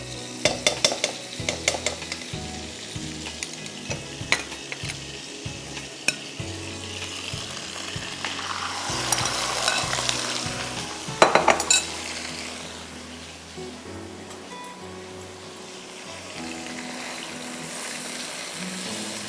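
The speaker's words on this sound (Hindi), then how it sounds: "2 टेबलस्पून जा रहा है इसमें butter, and I am going to stir fry my undercut" Beef undercut stir-fried in oil and butter over high heat, a steady sizzle with repeated sharp clinks of a utensil against the pan and a louder burst of frying partway through.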